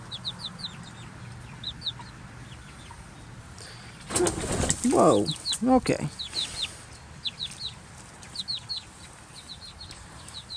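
Backyard chickens, curious and friendly, give a few close clucks and squawks with wing flaps in a short burst mid-clip, among distant chirping birds, while a person speaks briefly.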